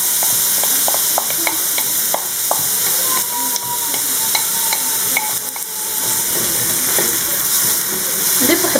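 Onion sizzles and crackles in hot olive oil in a pan, a loud steady frying hiss with scattered pops and occasional stirring scrapes.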